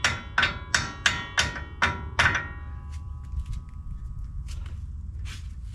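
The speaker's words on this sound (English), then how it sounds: "I'm just using a regular hammer." Six or so sharp metallic hammer strikes from a regular hammer on a 1979 Ford F-150 front hub, ring out at an even pace, followed by quieter shuffling and scraping handling noises.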